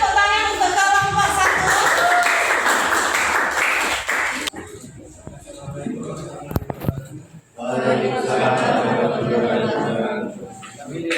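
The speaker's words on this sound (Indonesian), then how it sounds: "berikan tepuk tangan untuk kelompok" Classmates clap for a student group during a geography lesson, the applause mixed with chatter and voices for the first few seconds before it fades and a student begins speaking.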